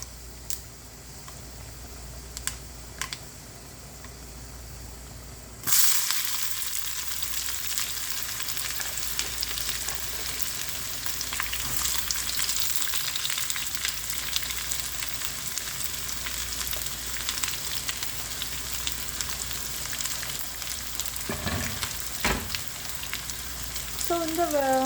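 Urad dal and finely chopped shallots fry in oil for a tempering, with a quiet start before a sudden burst of close, steady sizzling and crackle that carries on for the rest of the clip.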